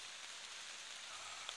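Rain falls steadily during a hunting outing, a faint, even patter of drops on surfaces with no other sounds standing out.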